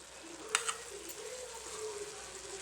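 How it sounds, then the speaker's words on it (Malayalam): Spiced masala powders with fried coconut sizzle steadily in a pan while being stirred, with a couple of sharp spoon scrapes early on, close and moderately quiet. "പൊടികളെല്ലാം ചേർത്തതിന് ശേഷം നമുക്ക് നല്ലതായിട്ട് ഇളക്കി കൊടുക്കാവേ."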